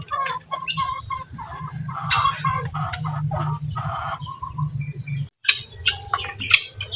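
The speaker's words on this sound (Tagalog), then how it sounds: "Umaalis yung ating mga inahin." A group of hens clucks continuously nearby in a backyard coop, their calls overlapping with chirps and rustling, briefly dropping out before resuming.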